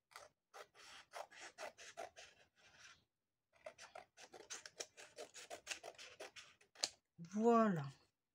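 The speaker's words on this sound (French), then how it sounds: "Et là, je vais couper." Paper is cut with scissors for junk journal tags, a run of short crisp snips and rustles close by, pausing briefly, with a person speaking softly between the cuts.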